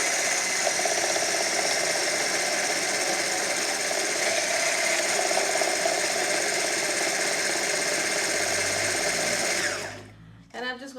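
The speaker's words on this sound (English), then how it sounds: "And I'm just going to keep whipping" An electric hand mixer whips homemade shea butter body cream, a steady loud high whine and rattle that runs continuously for about ten seconds before cutting off abruptly, heard close up.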